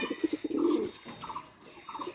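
Pakistani pigeons coo close by in a loft, throaty rolling calls that come in several short repeated bursts with brief pauses between them.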